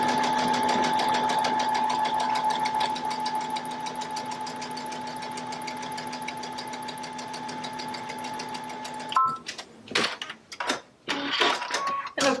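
Baby Lock sewing machine stitching in the ditch along a quilt seam, a steady fast mechanical whir with a constant tone for about nine seconds, then stopping into a few clicks and handling noises.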